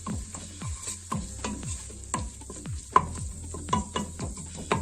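Lentil soup with curry spices cooks in a pot while a spoon scrapes and stirs in repeated strokes, each one a quick scrape over a soft, steady bubbling hiss, close and fairly loud with no talking.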